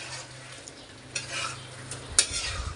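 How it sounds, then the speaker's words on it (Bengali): Fish pieces stirred into masala in a pan with a large spatula: repeated scraping strokes over a soft background sizzle, ending in a sharp metallic clink. "খুনাটাকে আমি লেড়ে দিই দাদু, তুমি এত বড় খুন্তি করে পারবা না।"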